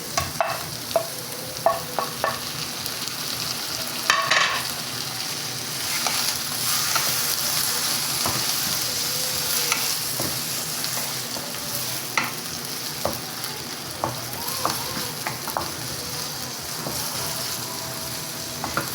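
Chicken keema fries in a pan for a dhaba-style dish, a steady loud sizzle running throughout, broken by frequent sharp scrapes and clacks of a spatula stirring the mince, with no talking.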